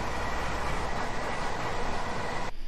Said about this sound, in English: You can also see a 377 go by.